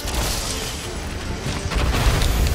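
Explosions from a monster fight in Monster Hunter World: Iceborne, a dense run of heavy booms and crashing bursts that stays loud throughout and swells further near the end, with no voices.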